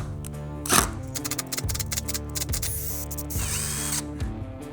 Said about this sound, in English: I've got some old rusty screws and I'm gonna try to pull one because I wanna see it.